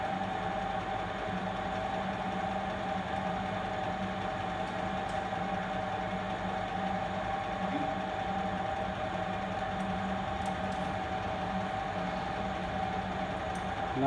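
A compression testing machine loads a brick with a steady, close mechanical hum and drone that stays even and unbroken throughout, with no pauses.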